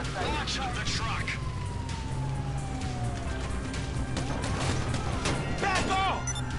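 Police car sirens wail in GTA 5 amid a loud chaotic scene, with rising and falling siren sweeps mixed with engine noise, bursts of gunfire and voices talking over them.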